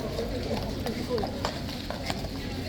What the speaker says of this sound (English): On a flipping massive horse.